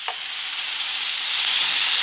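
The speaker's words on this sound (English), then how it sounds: "Steak in the pan as well." Thinly sliced steak sizzles steadily in a hot pan, a continuous bright hiss that holds at an even level after one short utensil tap at the start, with no voices.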